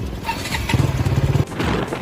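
A motorcycle engine catches from the starter, a brief rapid chugging burst that settles into a steady idle close by.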